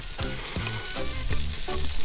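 Vegetables fry in a lamb potjie stew pot with a steady, close crackling sizzle that rises and falls in pulses throughout.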